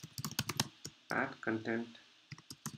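A quick burst of clicky computer-keyboard keystrokes as code is typed, followed by a person talking over quieter, scattered key taps.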